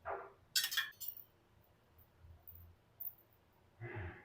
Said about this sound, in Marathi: इथे मी ह्या सेम साईजच्या वाट्या घेतलेल्या आहेत आणि वाट्यांना सर्व बाजूने आपल्याला तूप लावून घ्यायचं आहे.